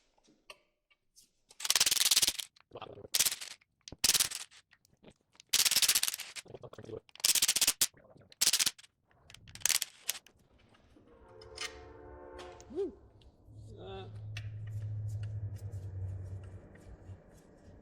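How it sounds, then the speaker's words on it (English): Clutch bolts come off a C4 Corvette in loud, short bursts of an impact wrench, several spaced rattling blasts, followed by quieter metallic handling and a low hum. "let's remove some clutch bolts"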